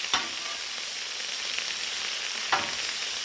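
Pork stir fry with baby corn sizzles on a Blackstone griddle, a steady broad hiss with a couple of sharp scraping clicks from stirring, no voices.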